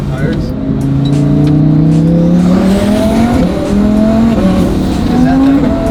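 A rebuilt twin-turbo Lamborghini Huracan drives hard, its engine note climbing steadily through the gears as a loud, continuous roar with rising pitch sweeps, heard from the cabin with voices talking over it.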